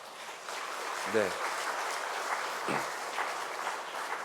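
A Korean church congregation at a Sunday afternoon worship service claps for visiting missionaries, soft and fairly distant, with a brief spoken response heard over it.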